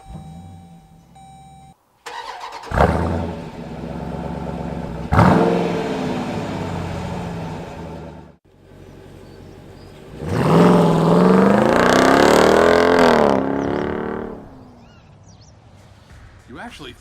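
A 2018 Dodge Durango SRT with an 8-speed automatic launches hard from rest. Its engine rises in a loud, rising roar through several upshifts, drops briefly, then surges again in a long, strong pull, with a short beep at the start.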